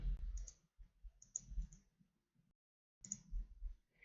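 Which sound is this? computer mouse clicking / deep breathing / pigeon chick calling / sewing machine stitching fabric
computer mouse clicking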